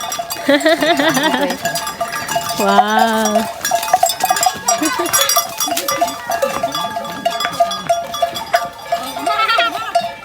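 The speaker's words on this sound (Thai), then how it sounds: "ดูนะคะเด็กๆไปเลี้ยงควายมา" A herd of water buffalo wearing bells passes through an old Tai Yai village, with clanking bells ringing irregularly throughout, mixed with voices and an excited exclamation nearby.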